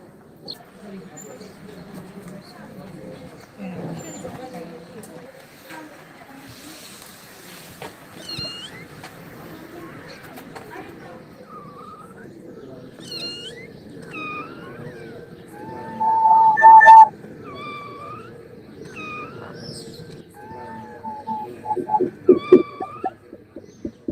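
Several stray kittens mew in high, thin, repeated calls, some brief and some drawn out, with a louder burst of cries partway through and more near the end over a soft background.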